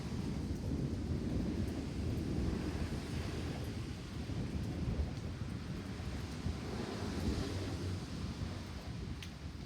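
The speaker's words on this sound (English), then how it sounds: "Like a 30-minute thunderstorm." A severe thunderstorm fills the air with a continuous low rumble and wind-like roar, steady and fairly faint, with no voices.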